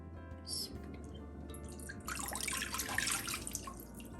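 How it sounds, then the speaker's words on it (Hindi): Water, 250 ml, pours into a cooking pot for Spanish churros dough: a steady splashing rush that swells about halfway through and runs on, close and fairly loud, after a few faint drips and clinks. "सबसे पहले देगचे में पानी ऐड करेंगे 250 ml।"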